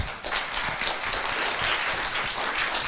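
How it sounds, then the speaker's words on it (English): Audience applause for a speaker at a wellness talk: a steady wash of many hands clapping, moderately loud and continuous across the room without any talk. "Let's give him a round of applause"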